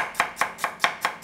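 Ginger is chopped with a knife on a board in six sharp, evenly spaced chops, close and clear, with no voices.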